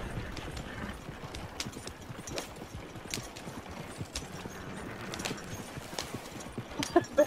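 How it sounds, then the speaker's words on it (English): Several horses pass at night in Mount Hagen, hooves clip-clopping in an irregular, overlapping rhythm at moderate distance, with a faint whinny near the end. "Like, where did all these horses come from?"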